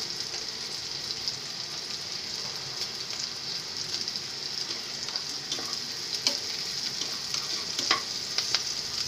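Onions fry steadily in a pan as they brown, a dense close hiss with irregular crackles and spatter pops plus scrapes from stirring, constant throughout and nobody talking.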